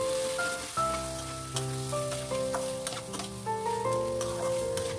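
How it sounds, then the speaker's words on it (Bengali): Mung dal sizzles and crackles in hot oil with dried chilli and cumin, a steady close fry with stirring scrapes and small pops throughout. "হালকা লালচে করে মুগ ডালটা ভেজে নেব"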